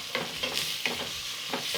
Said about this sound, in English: Give this a stir and continue sweating this for a couple more minutes.